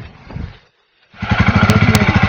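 A Royal Enfield Scram 411 motorcycle during off-road testing: after a short rough burst and a brief silence, the engine catches and settles into a loud, steady, close thumping idle.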